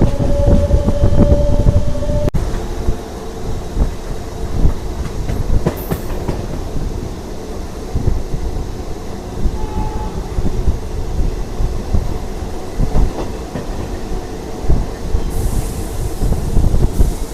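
A DEMU passenger train rumbles steadily along the rails, wheels clacking rhythmically over joints, heard from on board with a constant loud roar.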